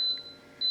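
An Instant Pot pressure cooker beeping as it switches to sauté mode: two short, clear electronic tones, one at the start and one at the end, in a quiet kitchen.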